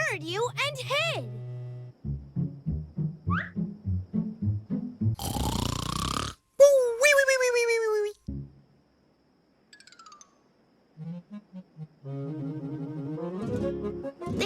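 A cartoon fire truck snores in a long run of rhythmic, repeating snore sounds, mixed with whistles, rising tones and comic sound effects, with pauses between bursts.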